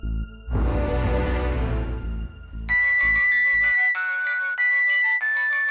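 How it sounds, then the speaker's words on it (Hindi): A mobile phone rings loudly at close range in a Bhojpuri TV serial scene. A noisy burst comes first, then a repeating electronic melody runs on steadily with no voices over it. "आपका मोबाइल बार बार बज रहा था"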